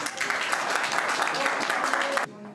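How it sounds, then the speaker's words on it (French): Applause from the audience at a French film premiere screening, dense steady clapping for about two seconds with speech mixed in, then cutting off abruptly as the room quiets. "donc on peut l'applaudir"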